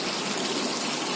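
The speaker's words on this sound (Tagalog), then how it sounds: "Umaagos yung tubig dyan." Water pours down a tall wall waterfall feature at a koi aquarium in St. Teresa's Hospital, a steady, close, full-bodied rushing splash with no breaks.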